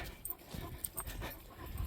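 Stray dogs in an outdoor street setting, with short panting and soft whimpering bursts scattered over steady low background noise, fairly close and moderately loud.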